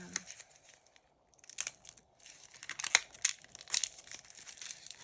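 A plastic bag crinkles and rustles in short bursts, close and fairly quiet, with a brief pause near the start.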